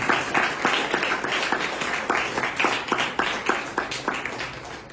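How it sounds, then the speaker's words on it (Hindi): Audience applause at a college event, with many hands clapping in a steady wash and a faintly rhythmic pulse running through it, fairly loud throughout. "इस पे भी तालियां बजती हैं"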